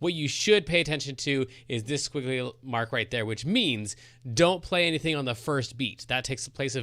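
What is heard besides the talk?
No distinct noise like a dog, phone or traffic.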